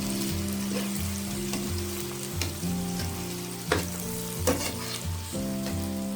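Turmeric and red chilli powder frying in a pan over low gas heat, a steady close sizzle with a few soft stirring knocks and scrapes, over a constant low hum, no voices.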